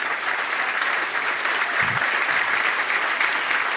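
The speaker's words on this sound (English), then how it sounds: "You weren't supposed to get applause, but you got it anyway" Steady, dense audience applause fills a prize day ceremony hall, a continuous wash of clapping from a large crowd that holds at an even level throughout without pause.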